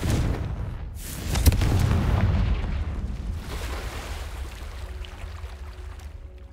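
A heavy Confringo spell explosion in Hogwarts Legacy, a loud low boom with a rumbling tail that fades over several seconds, game ambience and a faint tone lingering afterward.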